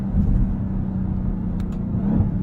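A 2021 Dodge Durango Hellcat's supercharged engine under steady acceleration, a loud, continuous low rumble from inside the cabin with a faint brief whine near the end.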